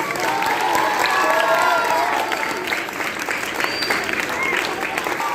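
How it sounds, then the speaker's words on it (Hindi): An audience at a religious convention gives a sustained round of loud clapping, dense and steady for several seconds, with a few cheers mixed in and voices faintly audible underneath. "जोरदार तालियां।"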